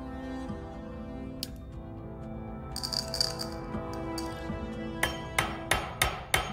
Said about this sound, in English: So I've flattened the overlapping ends of the ring and I've pierced a hole through it.